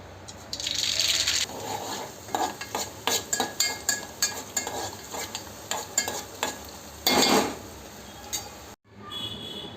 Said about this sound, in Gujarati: જોવો, વઘારે ચાલુ કરી દીધો છે મેં. હવે હું વઘારું છું દાળને